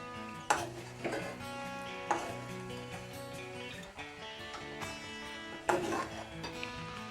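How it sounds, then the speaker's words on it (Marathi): Potato pieces are stirred into masala in a metal pan, a spatula scraping and clinking against the pan in repeated strokes with a few louder knocks, close and clear with no talk. "आता या मसाल्यामध्येच आपण हे बटाट्याच्या फोडी टाकून देऊ आणि या मसाल्यामध्ये ह्या फोडी चांगल्या मिक्स करून घेऊ।"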